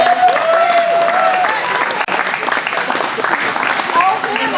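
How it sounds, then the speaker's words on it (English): A crowd applauds steadily at a Highland games after a 17-foot, roughly 110-pound caber toss, a dense sustained clatter of many hands outdoors, with a voice talking over it early on. "Give him a round of applause."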